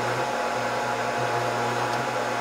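A hot air rework station on a Scotle IR 360 dual IR and hot air heater blows a steady, loud rush of heated air with a low constant hum, continuous and without talk.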